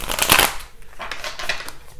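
Tarot cards rustle and riffle in a short hand shuffle, one louder burst followed by softer, scattered flicks close at hand.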